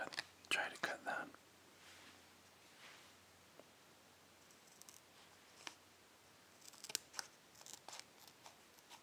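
Scissors cutting a crinkly Japanese candy package, several quiet snips and crinkles close to the ear, mostly near the start and again later, in near silence.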